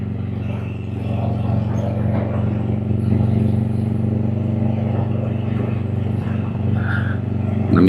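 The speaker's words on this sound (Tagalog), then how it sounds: "Na-miss ko rin yung ingay nitong motor na to." A motorcycle with a loud aftermarket exhaust pipe idles and rumbles with a deep, steady throbbing exhaust, close by, swelling slightly toward the end.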